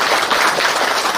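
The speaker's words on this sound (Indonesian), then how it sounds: "Tepuk tangan untuk beliau." A crowd at an outdoor religious gathering bursts into brief, dense applause, a loud wash of many hands clapping together with no voices over it.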